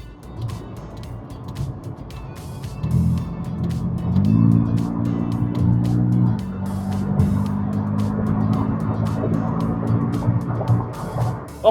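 A Honda Super-N (Super-One) electric kei car plays a simulated petrol-engine sound through its speakers while holding a simulated seventh gear, a steady synthetic drone that steps up in pitch and then holds.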